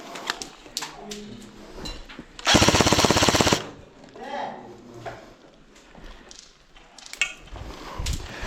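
A dense burst of rapid airsoft gunfire lasting about a second, surrounded by scattered shots, movement and speech.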